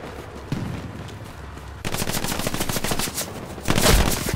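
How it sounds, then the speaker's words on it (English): Video game gunfire in a large-scale shooter match, with distant shots at first, then rapid bursts of automatic fire that grow louder and closer, ending in a heavy volley. "I'm getting shot in the back"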